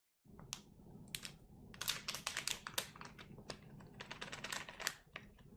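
Typing on a keyboard fitted with Tap Tap keycaps, a close, quick run of crisp clacking key presses in uneven bursts with short pauses, heard alone.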